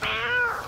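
A single clear, loud cat meow, close to the listener, drawn out for under a second with a rising then falling pitch, with no voices.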